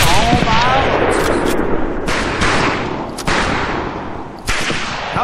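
Gunfire from the Medal of Honor Pacific Assault video game rings out in loud repeated bursts and sharp cracks, with a voice speaking over parts of the shooting.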